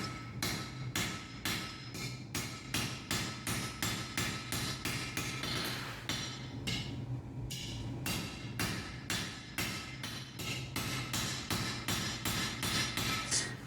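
Steady hammer blows on hot metal at an anvil as a blacksmith flattens stock to form a mounting surface for a feather candle holder, a long, regular rapid series of close, loud ringing strikes with no talk.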